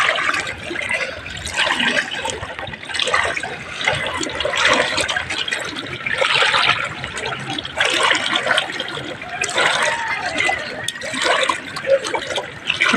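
Knee-deep floodwater swirls and splashes during a typhoon, a steady broadband rushing and sloshing of moving water that continues throughout, fairly close and loud with no speech over it.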